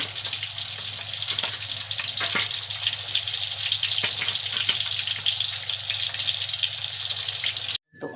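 Onion, garlic, tomato and chili sauté in a hot pan with squid, crackling in a loud, steady sizzle with occasional stirring clicks, cutting off abruptly near the end.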